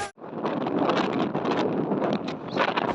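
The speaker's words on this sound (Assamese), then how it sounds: "কি বতাহ মাৰিছে" Strong wind roars and buffets the microphone without a break during a scooter ride on an open road in Assam, loud and close, with no speech.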